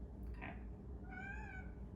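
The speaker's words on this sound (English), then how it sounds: "That's my cat again." A house cat meows indoors, one clear drawn-out meow close by and rather faint, preceded by a brief soft chirp-like sound.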